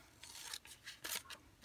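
Scissors snip through paper being cut for a handmade collage, several quick crisp cuts in an uneven rhythm, close and clear with no talking.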